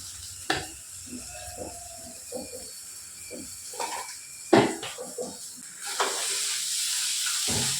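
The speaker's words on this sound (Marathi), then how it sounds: "कसुरी मेथी टाकली मस्त छान परतून घ्यायचं आहे आपल्याला" Kasuri methi is sautéed into a smoky eggplant bharit, with intermittent stirring scrapes and soft sizzling that build to a steadier hiss near the end.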